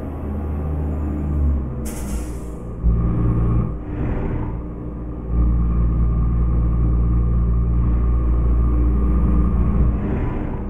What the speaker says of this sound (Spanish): La frenita de motor